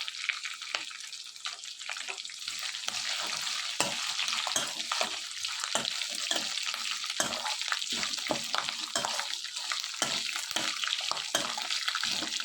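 Ingredients for pulihora frying in a pan, a constant bright hiss of hot oil with frequent scraping strokes of a spoon stirring through them, close and unbroken for the whole stretch.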